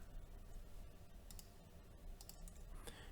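Computer mouse clicks during a Windows PC software install, a few soft, close, sparse taps over a quiet background.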